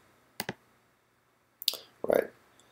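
Computer mouse clicks at a desk: a quick double click, then after a pause a couple more sharp, close clicks.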